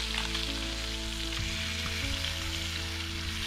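Steak sizzles over a fire on a boat at sea, a constant loud broadband hiss with low humming tones running underneath throughout.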